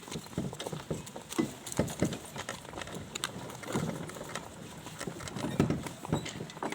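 A mare's hooves clip-clop in a steady, moderately distant rhythm on a hard surface during an evening walk, with faint ambient noise around them.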